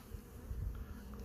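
Honey bees buzz around an opened hive during an inspection, a close, continuous droning hum that swells slightly in the middle, with no speech.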